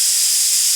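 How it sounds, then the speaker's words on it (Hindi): Pressure cooker whistle venting steam in a home kitchen, a steady loud hiss that holds evenly for under a second with no voices. "और कुकर में 2 सीटी लग गई है।"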